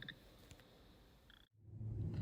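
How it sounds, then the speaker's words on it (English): Small frogs call in faint, scattered chirps at a distance, with a low rumble rising near the end. "the small frogs sing their victory song"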